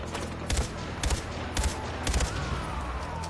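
Short gun bursts crack out in Far Cry 4, repeating in a regular rhythm of roughly four volleys over a steady backdrop of game ambience.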